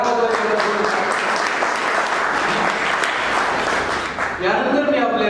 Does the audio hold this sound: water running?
no